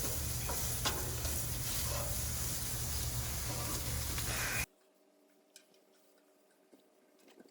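Steak pieces sizzle and fry loudly on a hot Blackstone griddle outdoors on a warm South Carolina night, a steady dense crackle that cuts off abruptly partway through, leaving near-quiet with a few faint clicks.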